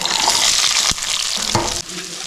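Sliced onions hit hot coconut oil for a sardine curry, a loud dense sizzle that dips briefly as they are stirred, with a couple of spatula knocks.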